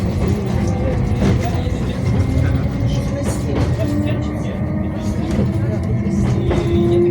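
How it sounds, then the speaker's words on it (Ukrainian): Steady rumbling of a moving Tatra tram, with a continuous low mechanical drone and rolling noise, and faint higher squeals toward the end. "Ми на такому трамваї їдемо."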